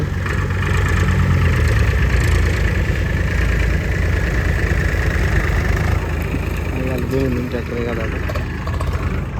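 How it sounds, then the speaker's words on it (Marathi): A tractor engine chugs steadily at idle close by while hauling manure, a constant low throbbing, with faint voices in the background. "मी बी आता हे ट्रॅक्टर लावून देतो"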